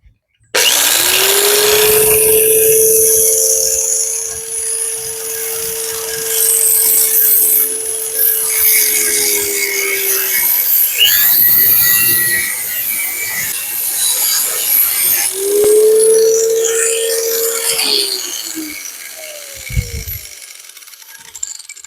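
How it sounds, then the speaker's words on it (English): An angle grinder, battery powered from a portable power station, cutting through a metal bed frame: a loud sustained whine with gritty grinding for about ten seconds, a pause with rattling and handling noise, then a shorter second cut. "So let's get out this angle grinder and make some cuts."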